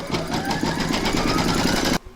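An embroidery sewing machine stitches the placement outline of an in-the-hoop large bells applique on wash-away stabiliser, a fast, steady mechanical whirring and needle patter held close and loud for about two seconds before cutting off abruptly.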